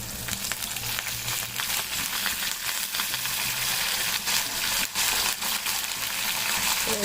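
Curry leaves fry in hot oil for pulihora rice, a loud continuous crackling sizzle with stirring scrapes, heard close up throughout.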